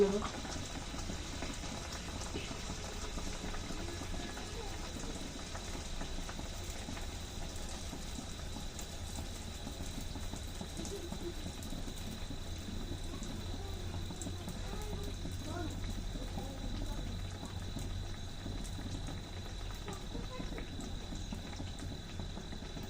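Pitha cakes frying in hot oil, a steady dense sizzle and bubbling that holds throughout at a fairly even level, close by.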